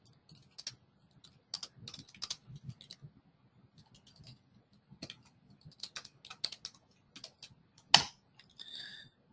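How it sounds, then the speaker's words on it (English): Computer keyboard keys clatter in scattered bursts of quick taps with pauses between them as code is typed, close and fairly quiet, ending in one louder sharp click and a brief rustle. "let's say I will start writing the code which actually I will use to bind the information on my grid."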